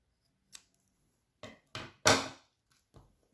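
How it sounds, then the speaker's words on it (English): Scissors snip through sewing thread after a button is knotted in place, giving a few short, close, crisp cuts spaced over a couple of seconds in a quiet room. "All you need to do now is cut your thread,"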